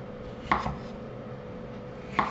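Potatoes being cubed with a knife on a board, two distinct close chopping thuds about a second and a half apart over a quiet room hum.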